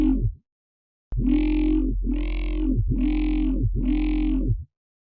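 A growling synth bass patch run through a phaser effect in the Vital software synthesizer sounds four times in a steady rhythm, each note a loud, thick, distorted tone with a sweeping, swirling character, after a brief opening blip and a short silence.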